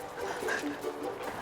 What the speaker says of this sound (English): The dogs won't sit.